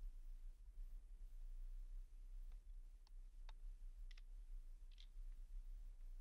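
Sparse, faint computer mouse clicks, single dry ticks spaced irregularly over a low steady hum.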